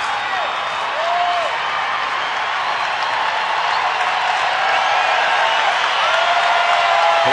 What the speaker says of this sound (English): Here comes the crowd. Good crowd here tonight.